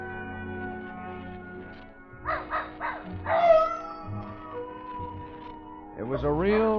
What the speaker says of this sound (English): Old Nugget the dog was carrying on a long-distance conversation with his country cousins, the coyotes up in the hills